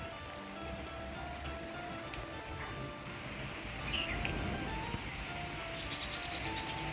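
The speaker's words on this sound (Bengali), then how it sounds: "এতদিন বৃষ্টি হচ্ছিল না বলে মানুষের এত আক্ষেপ, বৃষ্টি হচ্ছে না বৃষ্টি হচ্ছে না।" Heavy rain falls outside, a steady, even hiss of drops on surfaces that holds for the whole stretch and swells a little in the second half, with no voices.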